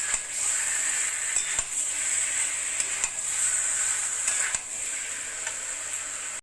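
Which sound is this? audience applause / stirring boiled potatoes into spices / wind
stirring boiled potatoes into spices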